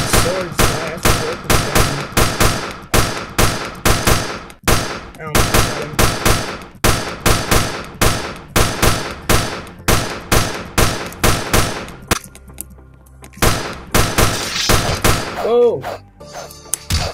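Rapid repeated gunshots in the Roblox video game, loud punchy bursts in a steady rhythm for about twelve seconds, then a brief pause and a few more shots, with a voice speaking over them.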